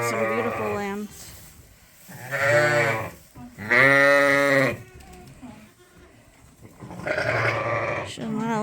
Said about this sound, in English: Here we got another Suffolk coming out with her lambs.